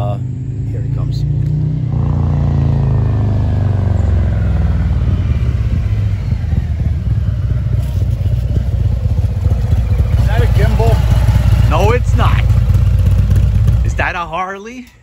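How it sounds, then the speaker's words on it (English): A Harley motorcycle rumbles in steadily and loud throughout, its deep engine drone continuous before cutting off near the end. "I can hear his bike."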